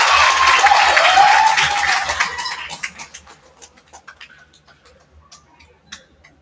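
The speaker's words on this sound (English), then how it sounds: "Ladies and gentlemen, would you give her a round of applause?" Applause from a high school senior recognition event, loud at first, then fading into scattered claps with a few last isolated ones.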